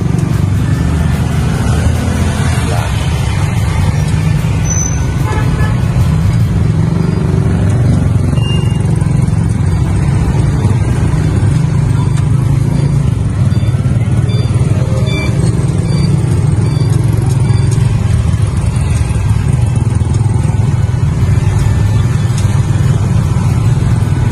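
A Kuda Lion battery-powered vehicle on the road as a school service, a loud, steady driving rumble with road and wind noise and a faint electric whine, continuous and close throughout.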